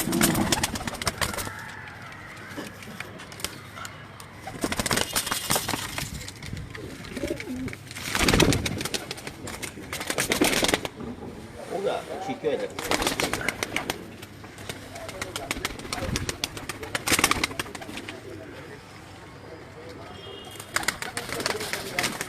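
Pigeons coo repeatedly at close range on a rooftop, mixed with rustling and some background talk.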